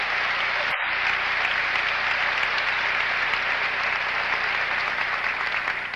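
A lecture audience at a psychiatry grand rounds breaks into steady, dense applause. The clapping is continuous and even for several seconds, with no talking over it.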